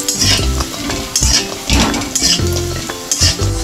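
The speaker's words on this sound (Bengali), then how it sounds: "আমি এবারে বড়িগুলো ভেজে নেব।" Lentil dumplings (bori) frying in a pan give a loud, steady sizzle, with repeated clinks and scrapes of a spoon stirring against the metal and no voices.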